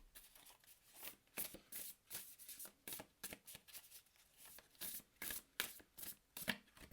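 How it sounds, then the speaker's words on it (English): A deck of oracle cards is shuffled by hand in rapid, rhythmic riffling bursts, each a crisp papery flutter, close and fairly quiet, with no speech. "let's pull an oracle card"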